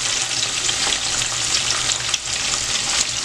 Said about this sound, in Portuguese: Não vou deixar ela fritar muito, pra ela não ficar muito dura